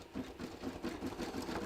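A sewing machine stitches a buttonhole, running with a steady fast rhythmic pulse of repeated needle strokes, close and moderately loud with no voices.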